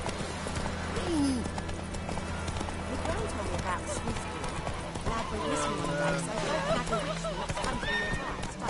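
A horse's hooves clip-clop steadily in The Witcher 3 game, with a whinny, under a voice and a continuous background score.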